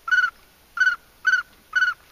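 A Haydel MP90 duck whistle blown to imitate a pintail: four short, even whistled notes about half a second apart, clear and close, with no talking.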